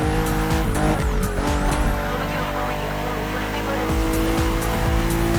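A BMW M CSL racing in The Crew Motorfest video game roars with revving engine notes and shifting pitch, broken by repeated tire squeals and skids, loud and continuous.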